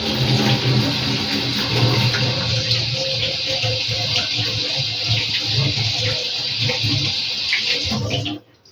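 Steady rush of running tap water splashing continuously, loud and close, cutting off abruptly near the end.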